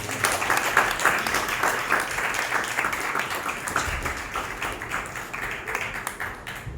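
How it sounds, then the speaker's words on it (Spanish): A church congregation claps together in sustained applause, a dense, steady patter of many hands filling the room. "Denle un aplauso al Señor."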